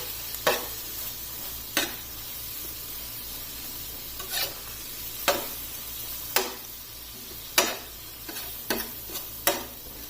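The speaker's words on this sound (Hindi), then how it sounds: "अब इन सारी चीजों को बहुत अच्छी तरह से मिक्स कर लेना है।" Mutton tawa boti being stirred together with chopped ginger and coriander on a hot tawa, a steady sizzle under scattered sharp scraping clicks of the spatula, close and fairly even, with no talk.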